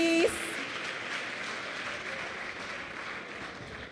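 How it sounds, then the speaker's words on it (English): Audience at a youth empowerment weekend event in the Northern Cape applauding, a dense steady wash of many hands clapping that holds evenly from start to finish after a brief tonal blip at the very beginning. "Another round of applause, please."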